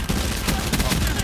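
Rapid bursts of Swordfish burst rifle fire in Call of Duty Black Ops 4, loud and close, with dense repeated shots packed across the moment and a faint voice mixed in.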